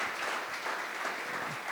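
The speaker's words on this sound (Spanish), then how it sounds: "Dale un fuerte aplauso a Dios por eso." Church congregation applauding in a steady, dense wash of clapping, sustained throughout without a break.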